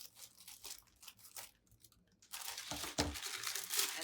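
Plastic packaging is cut apart at close range, giving soft crinkles and snips that fall quiet briefly before a louder stretch of crackling and cutting; no voices.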